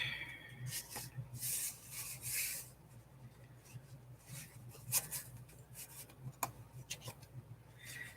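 Wood being shaved down slightly for a craft piece, giving a few short rasping, scraping strokes close by, with light rubbing and quiet handling between them and no talking.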